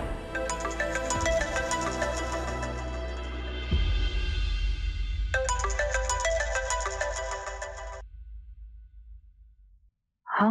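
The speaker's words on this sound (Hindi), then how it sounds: "हाँ सैन, इतनी सुबह सुबह फोन किया" A phone ringtone plays a loud, repeating melodic pattern for about eight seconds, stopping briefly in the middle before resuming, with a low hum beneath it and then quiet.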